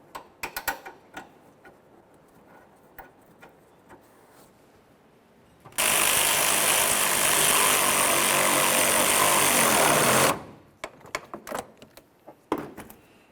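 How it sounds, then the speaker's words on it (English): A power tool drives the corner mounting bolts into a fender well of a 2005-2010 Chevrolet Cobalt during radiator cooling fan work, one loud, steady whir running about four seconds, framed by quieter clicks and handling taps. "We'll put in our corner mounting bolts."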